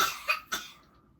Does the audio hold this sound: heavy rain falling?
no